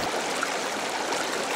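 Bubbling, gurgling water runs steadily through a rafting aquarium tank holding Panaque catfish, a continuous stream-like wash with no voices over it.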